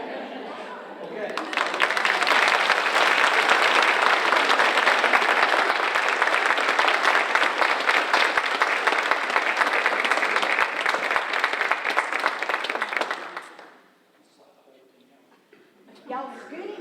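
Audience applause at a teacher of the year banquet, a dense, loud, sustained wash of clapping from a large crowd that swells quickly, holds steady, then fades out abruptly.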